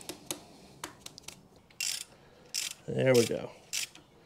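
A wrench ratchets in short clicking bursts while snugging bolts on the crank seal of a 12 valve Cummins diesel, close and crisp, with someone speaking briefly.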